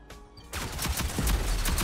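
Gunfire in the shooter Rogue Company starts suddenly after a quiet moment, then runs as a rapid series of sharp shots and impacts, loud and close, with no speech.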